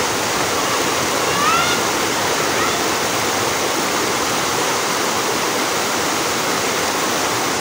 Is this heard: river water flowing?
yes